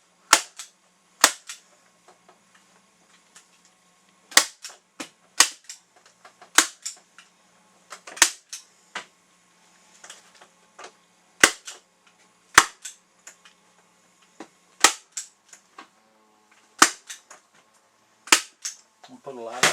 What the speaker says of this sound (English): I can't staple with my left hand, so I'm going to go ahead and staple with my right.